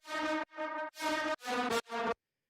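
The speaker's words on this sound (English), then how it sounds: "I basically started off with the horns" Horn sample from a rage-style track: five loud, brassy stabs in quick succession, each held briefly with short silences between, harmonically rich and upfront, then stopping abruptly.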